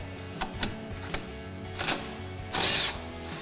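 A ratchet wrench works a 10mm bolt on the back of a front strut holding the ABS wire and brake line on a 2005-2010 Mustang, giving several short, close ratcheting clicks, then a louder burst of rapid clicking near the end.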